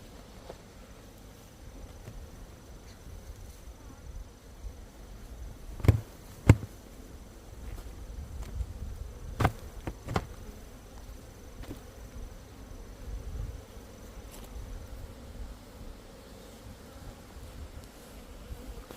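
Honeybees buzz faintly around two beehives in the open while hornets pick them off, a soft continuous drone with a few sharp knocks and thumps close by.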